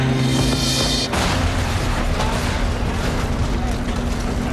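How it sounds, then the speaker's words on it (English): A loud, sustained explosive rumble from the wreckage of a crashed plane, with a sudden burst about a second in, followed by a long continuing roar and crackle. "an explosion rips through the remains of the plane"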